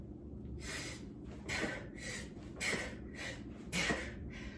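Fast, forceful breathing at a sprinting cadence during dumbbell push presses, about five sharp rhythmic exhale bursts in quick succession, close and loud, with no talking.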